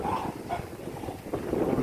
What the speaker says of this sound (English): No, dog is biting.